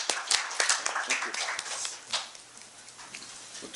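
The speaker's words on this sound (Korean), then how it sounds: "박수로 마치겠습니다" Audience applause at a development cooperation forum comes as scattered, uneven clapping. It is loudest at the start and thins out over a few seconds.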